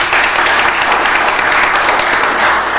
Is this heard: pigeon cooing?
no